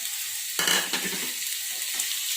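Chicken pieces marinated in salt and vinegar drop into hot oil in a pan for egg-roll filling, bursting into a loud sizzle that settles into steady frying with a brief stir midway.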